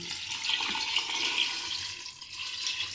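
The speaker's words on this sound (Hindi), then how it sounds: "अब इसमें हमने शामिल करना है 1 जग तकरीबन पानी" Water pours from a jug into a pot while homemade desi ghee is being prepared, a close, steady splashing gush that swells and dips slightly for a few seconds.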